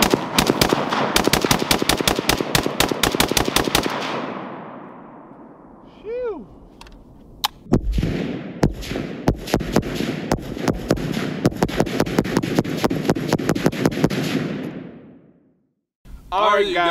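Rapid gunfire aimed at a flat screen TV: long strings of loud, closely spaced shots with brief gaps, a whooshing sweep in the middle, and voices faintly under the shooting.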